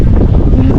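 Steady wind buffeting the microphone outdoors on a cold, breezy day by the sea at Saint Andrews, New Brunswick, a loud continuous low rumble with no talk.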